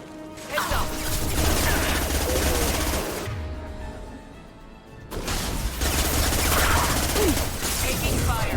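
Dense, sustained gunfire and crashing impacts in a Mass Effect 2 battle, two long loud bursts separated by a brief lull, heavy and close throughout.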